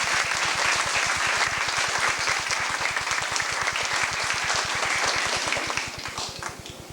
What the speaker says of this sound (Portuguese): eu peço a salva de palmas